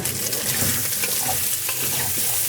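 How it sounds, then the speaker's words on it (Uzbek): Liver frying in melted sheep tail fat gives a steady, loud sizzle and crackle with occasional stirring scrapes, continuous and close throughout, with no talking. "Jigar qovuryotgandik. Mana dumbani eritib olganman."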